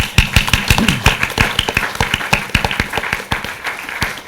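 Conference audience applauding the organizers at the end of a day of expert panels, close, loud clapping with distinct individual claps in an uneven rhythm, alone without talk.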